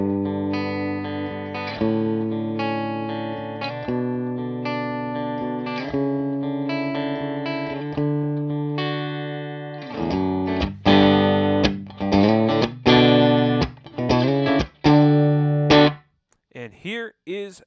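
Clean electric guitar through an amp and speaker cabinet mic'd with a Sennheiser E906, strummed chords ringing out steadily, then sharper plucked notes and short choppy strums toward the end.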